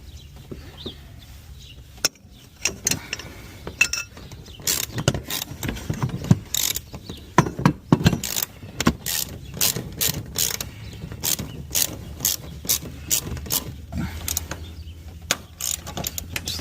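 Ratchet wrench breaking loose and spinning the top bolts on a car strut still held in place, during a lowering-spring install on an Infiniti FX35/FX37/FX50/QX70; bursts of sharp clicking and metallic clanks, close and repeated, with no talk.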